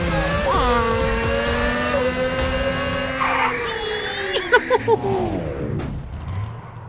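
Car in Free Fire revving hard then braking, engine pitch sliding down as tires screech briefly near the end, loud and close with game effects.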